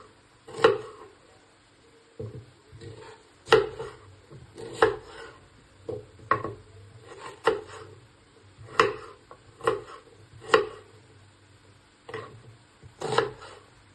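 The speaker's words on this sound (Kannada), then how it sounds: "ಈರುಳ್ಳಿ ಹಚ್ಕೊಳ್ಳೋಣ. ಈರುಳ್ಳಿ ದಪ್ಪ ದಪ್ಪ ಹಚ್ಕೋಬೇಕು." Onion being chopped into thick pieces on a board, a slow, regular series of sharp knife knocks, each followed by a faint scrape, about ten cuts, close and clear with no talk.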